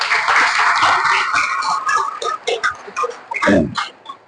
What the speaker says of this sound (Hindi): एक बार बजा ताली जोर से इनके लिए।